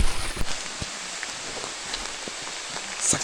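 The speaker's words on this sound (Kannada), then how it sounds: "ನಾನು ಅಂದ್ಕೊಂಡಂಗೆ ಇವಾಗ ಸ್ವಲ್ಪ ಮಳೆ ಬರ್ತೈತೆ" Light monsoon rain falls outdoors during a bike trip, a steady close patter of drops with a few louder drips standing out. No voices are heard.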